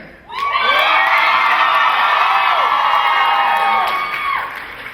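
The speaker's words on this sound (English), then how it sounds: "Guys, yell louder. Tell us how much you missed him last year." A big convention crowd at a Dragon Con Ghost Hunters (TAPS) panel in 2009 cheers, yells and whoops, a loud sustained roar that swells in at once and holds before fading slightly.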